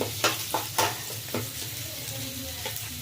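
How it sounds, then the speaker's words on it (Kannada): Onions frying in oil for a sprouted horse gram curry, a soft continuous sizzle broken by a few sharp stirring clicks early on, no voices. "ಈರುಳ್ಳಿ ಚೆಂದಾಗಿ ಫ್ರೈ ಆಗಬೇಕು"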